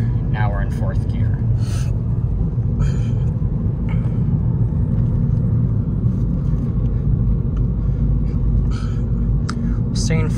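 A manual car cruises in fourth gear at about 35 mph, a constant low engine and road rumble filling the cabin while a person talks over it.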